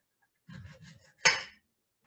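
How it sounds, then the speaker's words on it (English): A knife slices through banana and strawberries: a soft, scraping cut, then one sharp, crisp tap of the blade on the board, close and quiet, with no talking. "cut the banana and the strawberries in slices like this"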